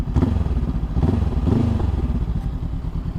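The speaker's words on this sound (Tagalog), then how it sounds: "At pakinggan mo yung tambutso." A Honda CB500X motorcycle with a MIVV exhaust rumbles loud and close, a steady low idling throb with slight revving pulses.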